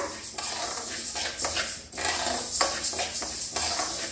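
Fenugreek and mustard seeds dry-roasting in a pan, stirred with a metal spoon: continuous close scraping and rattling of seeds against metal with a faint sizzle.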